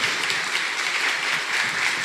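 Church congregation applauding in praise during a worship service, a steady broad wash of many hands clapping with no clear individual claps, moderately loud and continuous throughout.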